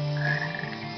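Frog croaking in Frog Forest of the game Sonic Heroes, a single short, loud, throaty croak with a buzzing tone, close and isolated, lasting about a second with no talk.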